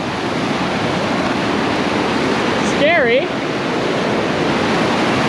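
Fast, high-current river water along a Niagara-side hiking trail rushes as a loud, steady broadband roar throughout, with a brief voice speaking over it midway.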